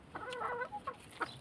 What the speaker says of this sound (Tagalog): Nangingitlog dito guys yung manok.